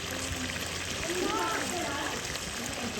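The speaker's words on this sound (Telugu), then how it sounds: "ముక్క ములిగే వరకు నీళ్ళు వేసేసుకుందామండి." Water poured into a pot of country chicken curry cooking on a wood-fired stove, making a steady, close splashing pour that runs for the whole stretch.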